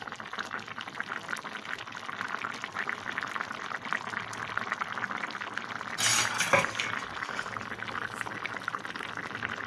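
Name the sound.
mutton kola urundai kulambu boiling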